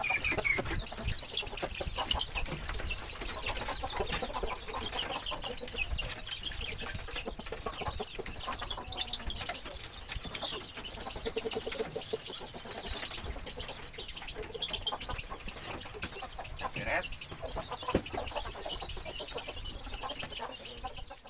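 Small chickens clucking and cheeping in a backyard coop at dusk, a busy, continuous chorus of soft peeping and clucks with occasional wing flutters, fairly close and steady throughout.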